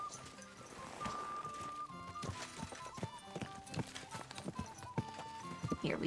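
Horse hooves clip-clop at a steady walking pace while riding in Kingdom Come: Deliverance II, fairly close and repeated, with game music and ambience layered underneath.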